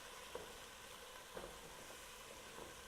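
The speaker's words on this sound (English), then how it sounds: "You just brown this tomato paste up a little bit." Tomato paste browning in a pan for eggplant Parmesan, a faint steady sizzle with a few soft stirring scrapes, quiet and continuous with no talking.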